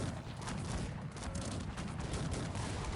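Musketeer formations firing in the strategy game Cossacks 3 during an England versus Spain ranked match, a dense, continuous rattle of volleys and battle noise that stays loud and steady throughout.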